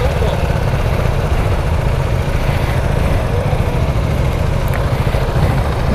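A Zontes R350 motorcycle engine runs steadily at a launch event test ride, a continuous low rumble with even pulsing that stays loud and unbroken throughout.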